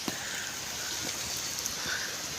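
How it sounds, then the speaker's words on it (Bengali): Steady rain falling with a soft continuous hiss and scattered drips, no voices. "বৃষ্টি পড়তেছে"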